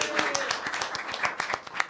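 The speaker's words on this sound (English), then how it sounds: "Round of applause for Caroline." Scattered clapping from a small audience greets a volunteer named Caroline at a comedy show, uneven individual claps close by with a voice talking over them.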